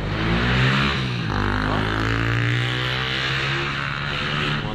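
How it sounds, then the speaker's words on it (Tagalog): A loud motorcycle engine by a roadside near rice fields, a continuous droning roar that rises and falls slightly in pitch as it passes close by, with no talking. "Kaingay ng motor, yan lang ang pangit pagka sa tabindaan, masyadong maingay."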